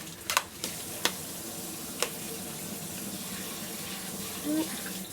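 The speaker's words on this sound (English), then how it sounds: "You want to rinse all your Brussels sprouts off." Tap water runs steadily into a sink while Brussels sprouts are rinsed, with a few clicks and knocks from handling near the start.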